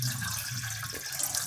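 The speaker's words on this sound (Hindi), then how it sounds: "ये पानी निकाल देंगे गर्म।" Hot water being drained off boiled grated potatoes while making aloo zarda, a steady close rush of pouring water running throughout without a break.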